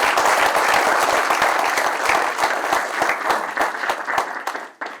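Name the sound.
applause for conference guests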